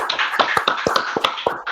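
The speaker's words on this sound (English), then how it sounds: "let's clap it. Clap, everybody." Several podcast hosts clap their hands together, a quick uneven patter of close claps and taps without talk.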